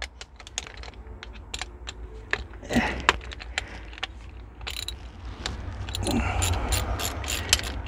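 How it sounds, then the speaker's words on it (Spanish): Ratchet wrench clicking in short bursts while removing screws from an aluminum top cover on a John Deere 310E/310G backhoe transmission, close and crisp with scattered metallic taps and handling noises. "Voy a quitar estos dos tornillos para quitar la tapa esta de encima."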